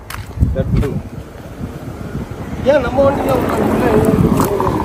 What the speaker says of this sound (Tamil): எங்கேயோ சவுண்ட் மட்டும் கேக்குது, அந்த மோட்டர் சவுண்ட் மட்டும் கேக்குது.